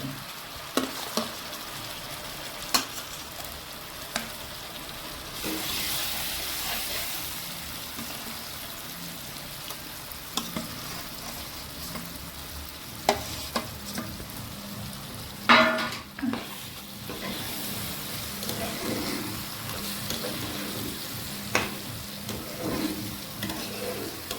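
Spices hitting hot oil with fried onions for a country chicken curry, a steady crackling sizzle throughout with repeated scraping stirs, clinks of a utensil against the pot and a brief louder burst midway, no voices.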